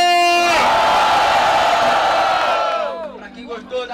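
Loud crowd shouting and cheering at a semifinal freestyle rap battle in Cabo Frio, a sustained roar of many voices that fades at the end as a single voice comes through.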